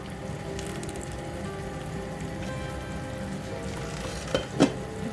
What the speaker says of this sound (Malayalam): പാല് ചേർത്തിട്ട് കറി തിളച്ച് തുടങ്ങിയിട്ടുണ്ട്